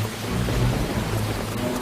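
A dramatized storm with wind and driving rain, a steady loud roar with low rumbling filling the whole stretch, no voices over it.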